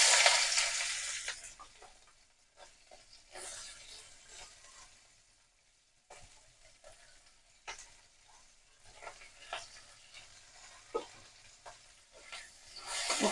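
Onions and green chilies hit hot oil for a chicken pulao, starting with a loud burst of sizzling that settles into a quieter, steady fry punctuated by stirring clicks and scrapes.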